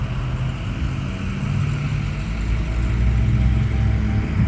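A 2012 Ram 3500 with a deleted 6.7L Cummins diesel, EGR and exhaust removed and a relocated turbo, running at idle: a steady, close, low rumbling drone that holds evenly, no talk.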